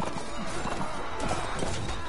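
Horse hooves gallop amid a Mount and Blade battle, a dense, continuous rumble of clattering hoofbeats mixed with clashing combat noise, loud and close without a break.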